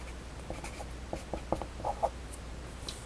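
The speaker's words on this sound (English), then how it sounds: "I'm going to write PEMDAS on the side here" Writing on a board while solving an equation: faint, scattered strokes and taps of the marker with small pauses between marks, quiet and close, over a low hum.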